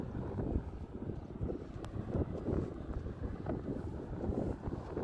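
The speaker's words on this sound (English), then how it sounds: "It's a little bit windy, but I think we should be alright." Steady wind buffets the microphone on a walk in Diamond Valley, Black Diamond, with a low, rumbling roar that gusts throughout, with no voices.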